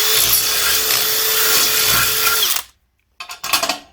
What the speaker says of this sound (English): I put the drill bit through